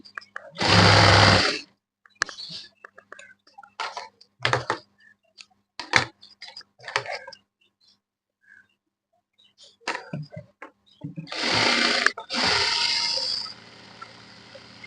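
A sewing machine stitches a blouse puff sleeve in several short loud whirring bursts separated by quiet clicks and handling noises, with the longest runs near the start and end.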